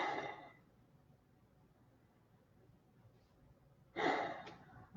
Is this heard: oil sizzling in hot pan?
no